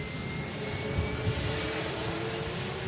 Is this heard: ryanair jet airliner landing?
yes